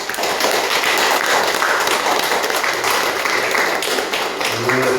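A church congregation applauds to welcome a member returning to Sunday worship, a dense, steady burst of many hands clapping indoors lasting several seconds.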